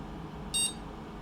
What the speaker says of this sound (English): how is the beep? Is it like excessively loud?